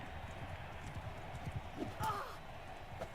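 Horse hooves clip-clop steadily at a walk in the Mount & Blade II: Bannerlord game, a soft regular patter under a low game background, with a brief faint whinny-like tone near the end.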